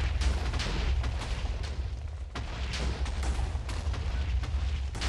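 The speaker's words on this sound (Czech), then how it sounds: "Jú, to je výbuchů" Repeated explosions go off in Minecraft version 1.8 on a parkour map, a steady run of booming blasts with no pauses, moderately loud and without talk.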